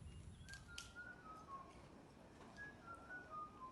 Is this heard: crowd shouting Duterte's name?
no